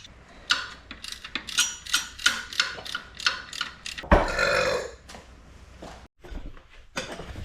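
Hand ratchet loosening a 15 mm bolt on a 6.7 Cummins engine during head gasket removal, heard as a near series of rhythmic clicking strokes, then a brief louder scrape and a short pause.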